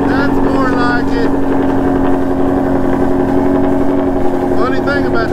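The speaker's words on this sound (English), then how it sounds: "Nothing like a Shelby with the active exhaust." A Ford Shelby GT350 with active exhaust idles after a cold start, a steady deep rumble running loud and continuous throughout, with a voice talking over it at times.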